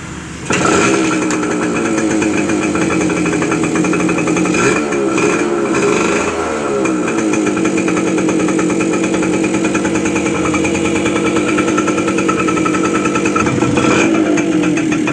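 A small motorcycle engine with no exhaust pipe revs loud and raw, a harsh high buzz that holds steady with a brief dip midway, close and continuous.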